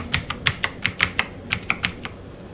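Keys on a computer keyboard are struck in a quick, irregular burst of about a dozen crisp, close taps while a heading is entered in a spreadsheet.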